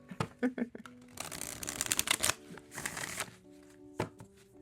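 A personal oracle card deck is shuffled up close, giving soft, quick riffling bursts and taps of the cards with short gaps between, fairly quiet, with a faint voice in the background.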